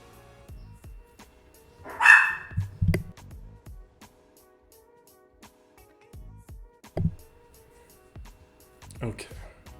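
Dogs bark in short bursts behind steady speech during a Star Wars Galaxy of Heroes game session, with one louder cluster of barks near the start and a few fainter yips later.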